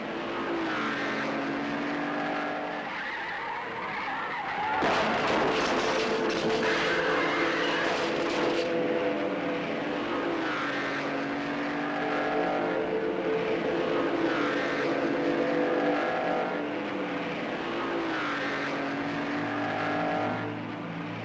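Vintage Formula One race cars roaring past on a circuit, a sustained engine drone rising into a louder, brighter burst of passing cars midway, then continuing at steady volume without talk.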